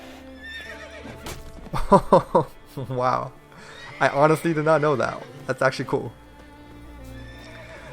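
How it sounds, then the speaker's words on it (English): A horse in The Witcher 3 gives loud, close whinnies and snorts, with hoof sounds mixed in, while someone talks over the game sounds. "you can actually get kicked by the horse."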